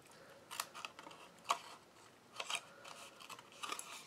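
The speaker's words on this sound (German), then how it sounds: "da brauchen wir eine Schere und dann schneiden wir uns das jetzt mal ein" Scissors snip through paper card stock during Stampin' Up! Halloween tag crafting, a few short crisp cuts spaced irregularly, close and fairly quiet with no talking.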